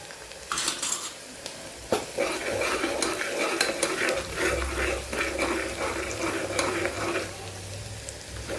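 Bay leaf, asafoetida and onion fry in hot oil, giving a continuous close sizzle under repeated scraping and stirring of a spoon against the pan, with occasional metallic knocks and no talking.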